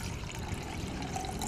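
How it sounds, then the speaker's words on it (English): Water poured from a Patton 58 Osprey NATO bottle into a Crusader canteen cup, a brief, faint trickle and splash over quiet outdoor background. "Pour a bit of water in there."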